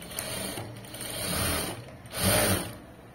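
A domestic sewing machine stitching a hem seam runs in a steady whirring, mechanical buzz that swells in two longer runs, the second louder, over a constant high whine.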